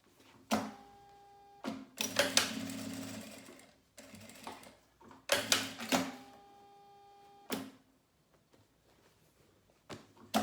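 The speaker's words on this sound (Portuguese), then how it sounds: "eu vou costurar um pedaço daqui pra cá e um pedaço daqui pra cá" A sewing machine stitches fabric for a manicure nail-polish pouch in several short bursts of rapid mechanical whirring, separated by pauses and small clicks, close and fairly loud against a quiet room.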